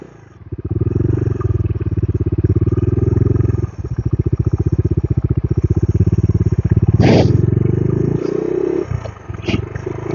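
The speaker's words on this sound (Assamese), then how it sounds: "সেইটো কাৰণে এতিয়া বাইকখন ঘূৰাই দিওঁ" A motorcycle turning around on a road in Ziro Valley rumbles up close with a low, throbbing idle, pulsing steadily, then briefly revs before easing off.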